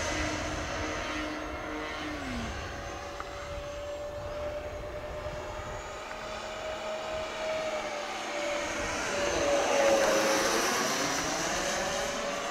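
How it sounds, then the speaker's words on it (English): A small FF-117V2 electric ducted fan model jet, 50mm or 64mm EDF, flying on its maiden flight, a loud continuous whooshing whine that shifts pitch as it passes, swelling near the end as it sweeps by close. "The EDFs do sound cool though."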